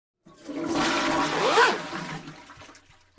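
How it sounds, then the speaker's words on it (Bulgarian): A toilet flushes in a rush of water lasting about three seconds, swelling to a loud gurgling peak midway before draining off, with no voices. "Ще пусна една вода."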